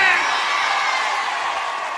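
Live concert audience cheering and whooping, a loud dense wash of voices and applause that fades slightly over two seconds.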